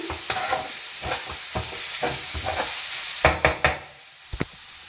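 Leafy vegetable curry with chilli powder being stirred and fried in a pan: a steady close sizzle with repeated spoon scrapes and several sharp knocks of the spoon against the pan, no talking.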